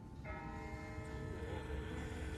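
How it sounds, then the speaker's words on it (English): A church bell tolls once in the distance in The Walking Dead video game; the ringing hum lingers and slowly fades under steady low background rumble, with no talk. "That's not the same bell as before. This one's further off."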